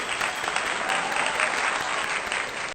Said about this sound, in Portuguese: Uma salva de palmas para a deslumbrada.